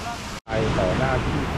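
Broad, steady rush of a wide, tiered waterfall near Luang Prabang, loud and close, briefly cut by a short silence, with a voice faintly speaking over the roar.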